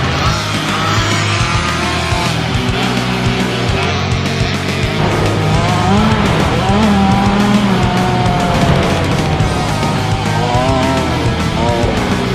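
A motocross dirt bike ridden by a kid on a track, loud engine revving and rising whine as it accelerates, sustained and near throughout.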